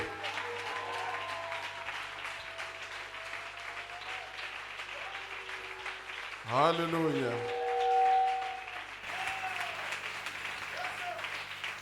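A church congregation at an evening service applauds and cheers steadily throughout, with a chanted vocal call rising briefly in the middle and a voice speaking over the crowd.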